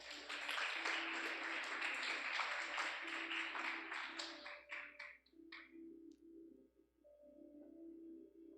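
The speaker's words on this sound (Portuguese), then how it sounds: "Aplauda Jesus pela vida do Vini" A church congregation applauds in a dense, sustained wash of clapping that tapers off after a few seconds, leaving soft musical tones behind.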